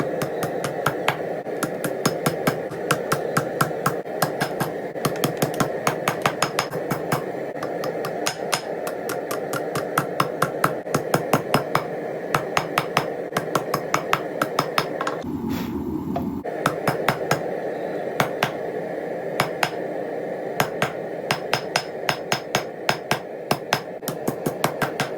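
A hammer straightens a curved metal bar meant for forged dice, with fast, sharp, ringing blows repeating close and loud for the whole stretch, broken by one brief pause partway through.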